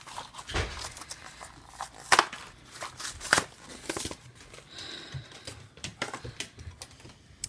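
Plastic packaging of Dear Lizzy die cut gold glitter phrase embellishments is opened up close, giving crisp crackling crinkles with a few sharp tearing snaps and no voices.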